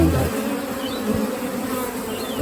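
Bees buzz densely and steadily around the brood comb of a Kenyan top bar hive. The hum is continuous and close, with a few individual bees passing in higher tones.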